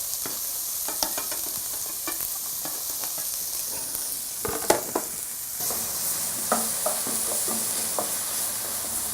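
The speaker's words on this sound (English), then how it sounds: "you can see our onions now, they're sauteing" Onions sauté in a pan for a sweet potato and okra masala, giving a moderate, continuous sizzle broken by scattered crackles and stirring scrapes, fairly close and without any talking.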